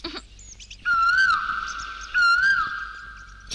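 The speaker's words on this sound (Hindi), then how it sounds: "कोयल की आवाज भी सुनाई नहीं दी क्या तुम्हें?" Two drawn-out, rising whistled calls like an Asian koel's cry ring out clearly in a quiet film scene, one after the other with a short gap between them.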